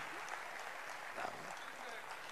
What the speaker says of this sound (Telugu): ఒక్కసారి గట్టిగా చప్పట్లు కొట్టండి